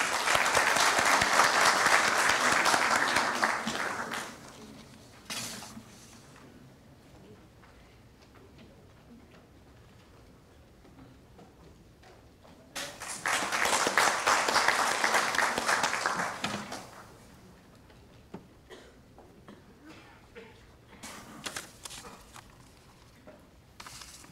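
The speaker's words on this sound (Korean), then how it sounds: "큰 박수로 맞이해 주시면 감사하겠습니다." Audience applause at the opening ceremony of a Korea Transport Institute research forum, welcoming the institute's president to give the opening address. Two loud bursts of clapping, each a few seconds long, are separated by a quiet gap with scattered claps and room noise.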